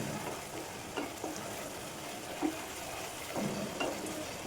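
A dish simmers in a pot on a home kitchen stove, a low steady bubbling hiss with a few soft knocks and stirring sounds, fairly quiet and without speech.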